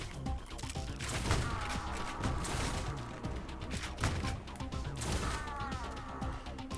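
Rapid gunfire and crashing impacts from the Ion Fury video game come as a dense, continuous barrage of bursts and thuds, loud and cluttered, with no clear speech.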